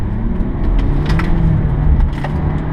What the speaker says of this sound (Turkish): Arka patinajları açtığı için sistem. Yani tekerlekleriniz dönüyor.